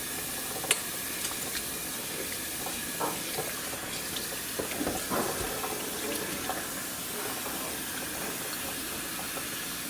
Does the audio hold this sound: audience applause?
no